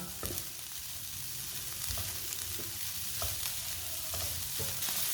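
Masala spices sizzle steadily in hot oil in a pan, cooked down as a filling for chicken rolls, with a spoon scraping and stirring through at a regular rhythm.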